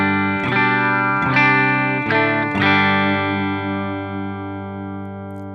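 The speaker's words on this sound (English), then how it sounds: "So my clean tone sounds a bit like this." Clean electric guitar tone from a Gretsch G2655 played into a low-wattage Marshall Plexi-style amp: four strummed chords ring out in turn, then one is left to sustain and fade, loud and close with no talk.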